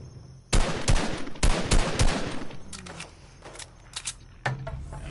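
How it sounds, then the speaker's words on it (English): Rapid bursts of AK rifle fire in a first-person shooter video game, loud and close, with several clustered volleys followed by sparser shots and a final burst. "Fuck, I hate the AK."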